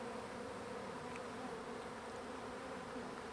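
A swarm of bees buzzes steadily at a hive in northeast Washington, a dense, even drone that is close and fills the air without a break.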